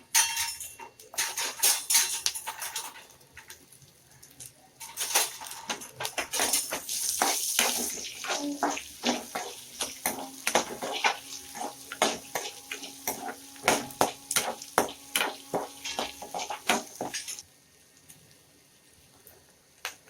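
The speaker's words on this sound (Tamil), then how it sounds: "வத்தல் ஆட் பண்ணிக்கோங்க. வெங்காயம் ஆட் பண்ணிக்கோங்க." Dried red chillies and onions fry in a pan for tomato chutney, with a soft sizzle under rapid clattering of a spatula against the pan that turns into quick scraping strokes before stopping, close and fairly quiet.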